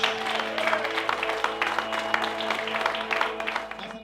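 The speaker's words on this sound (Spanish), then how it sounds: "Alguien puede aplaudir a Dios." A church congregation applauds, sustained dense clapping from a crowd with a faint background tone, fading slightly at the end.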